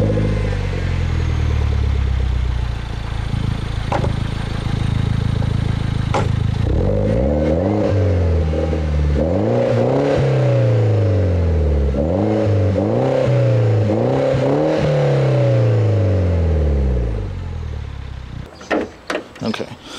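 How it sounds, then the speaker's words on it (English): A 2007 Mini Cooper S with an aftermarket exhaust revs repeatedly from idle, a loud, close run of rising and falling blips with a rough rumble between them, ending in a few short clicks. "let me show you guys an exhaust clip of the car really quick"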